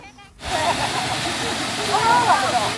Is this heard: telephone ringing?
no